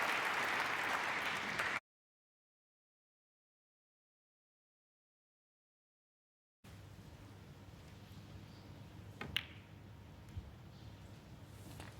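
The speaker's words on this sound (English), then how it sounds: "Applause for frame ball." Snooker crowd applause for frame ball at the Masters final: a short burst of loud clapping that cuts off abruptly, followed by silence and then quiet room tone with a faint hum and an occasional small knock.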